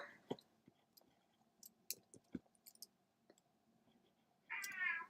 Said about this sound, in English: Oh, that's my cat. That scared me.